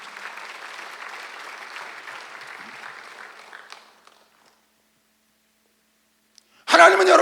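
A church congregation at a Sunday worship service claps together for about four seconds, a moderate, steady applause that fades out into silence before a sudden loud burst of sound near the end.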